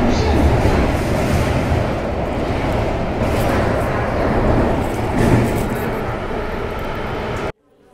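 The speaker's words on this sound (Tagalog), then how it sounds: "Sa ilalim dumadaan yung MRT dito." An MRT metro train rumbles past underneath with a broad, steady roar and rattling, then the sound cuts off abruptly near the end.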